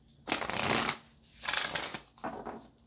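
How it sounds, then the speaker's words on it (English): Tarot cards shuffled close up in three distinct bursts of dense papery riffling, each lasting around half a second to a second with brief pauses between, loud and alone without any talk. "let's get one more good shuffle"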